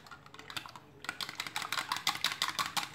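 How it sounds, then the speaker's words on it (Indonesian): Two eggs whisked in a bowl for a rolled omelette, a rapid run of light clicking taps that starts sparse and speeds into a steady close rhythm, no talking. "Yang 2 butir tadi kita kocok."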